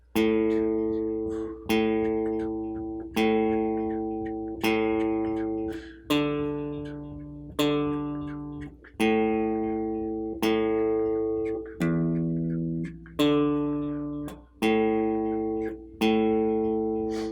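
Electric guitar with delay strums ring out on open strings about every 1.7 seconds in a 12-bar blues, each chord decaying into a soft delayed echo, changing chords partway through.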